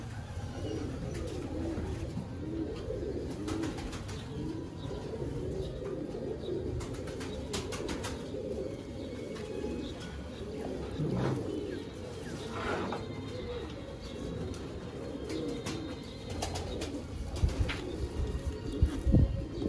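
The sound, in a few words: breeder pigeons cooing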